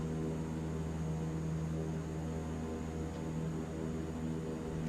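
A De Havilland Canada CL-415 amphibious turboprop in Microsoft Flight Simulator 2024 spools its engines up, giving a steady, dense propeller drone and hum that holds throughout.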